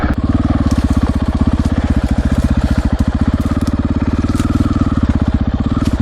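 A 2020 Husqvarna FE501s motorcycle engine on an off-road trail, chugging loud and close with a rapid, steady, even pulse.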